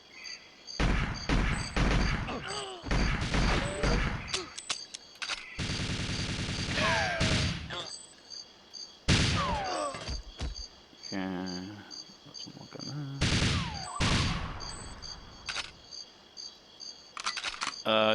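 Gunfire from shooting from the hip in the Nintendo 64 game GoldenEye 007: repeated loud bursts of rapid shots with short gaps between them, over a steady high-pitched electronic tone, with brief chirps and pings between bursts.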